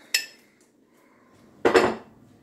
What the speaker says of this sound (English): We're going to stir the peanut butter, and it's going to start immediately melting.